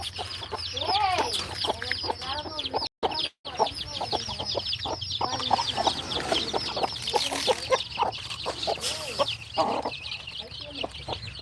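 A flock of farmyard chickens cluck and chatter constantly up close, overlapping calls in a busy rhythm with a couple of brief dropouts and some voices mixed in.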